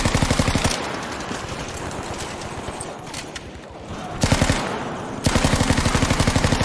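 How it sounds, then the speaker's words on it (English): A Sten submachine gun rattles in Battlefield V, sustained automatic bursts of rapid, evenly spaced shots, loud and close, pausing briefly before firing resumes in two more strings. "That was a good shot with the Sten"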